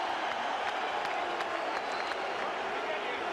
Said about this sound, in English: Well, the crowd are on Klitschko's side.